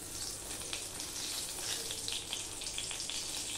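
Cumin, bay leaf and dried chilli sizzling in hot oil for a vegetarian tora root curry, a steady close frying hiss with small crackling pops throughout.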